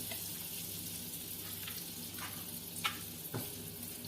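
Garlic butter sizzles steadily in a pan in a home kitchen, a soft, faint frying hiss broken by a couple of light stirring scrapes near the end.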